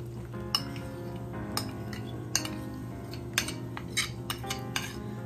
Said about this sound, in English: Okay, we're going to stir that around.